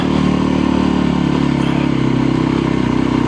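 Dirt-bike engine labors steadily and loud throughout on a washed-out, deeply rutted mountain trail in Spain, a continuous rumbling drone with no talk.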